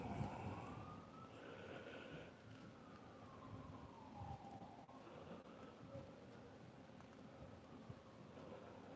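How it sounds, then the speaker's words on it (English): Distant sirens wail and rise and fall faintly in the background over low traffic rumble, with no one speaking. "You hear the sirens in the background."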